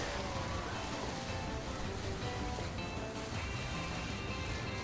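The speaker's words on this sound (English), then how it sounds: "it looks like the waves are coming in" Surf and ocean waves in the surfing mode of the video game Go Vacation, a dense continuous roar of rushing water that stays loud and steady from start to finish, with no voices over it.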